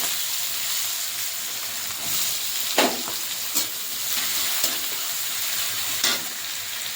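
Chopped onion sizzling in hot oil with cumin, bay leaf and whole garam masala for a chicken dish, a steady bright hiss with a few louder stirring scrapes, close and continuous with no talking.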